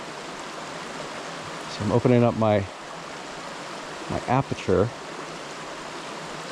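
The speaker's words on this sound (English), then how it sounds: "I see that waterfall through the arch" A waterfall pours beneath the stone arch of Poinsett Bridge, a steady broadband rush that holds level throughout, with someone speaking briefly over it twice.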